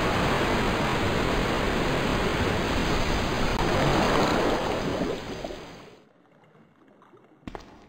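In Resident Evil 2, water rushes loudly and steadily after a lever is pulled, then cuts off abruptly, leaving near silence and one faint click.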